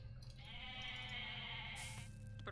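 Goats in the Age of Mythology strategy game give a long, wavering bleat, faint against a steady bed of game ambience and a brief higher chime near the end.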